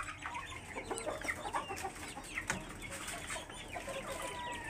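Chickens on a poultry farm cluck and call in a busy, continuous flock chorus, with occasional wing flaps, fairly close and steady throughout.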